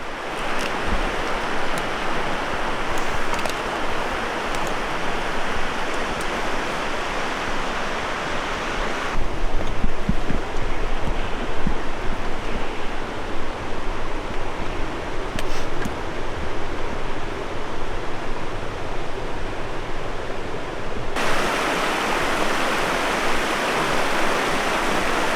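Lamb Creek rushes steadily along the Great Divide Trail near the remains of an old bridge, a loud, continuous broadband roar of flowing water that swells louder midway before settling back, with no voices.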